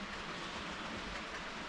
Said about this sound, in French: là je fais tourner un petit peu les trains parce que les rails s'encrassent